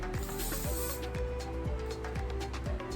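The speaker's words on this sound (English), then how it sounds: "with your Stronghold hairspray, just lift and let it be big" Stronghold hairspray misted onto a teased 1950s bombshell ponytail in bursts of airy spray hiss, repeated about every half second over a steady low hum, close and moderately loud.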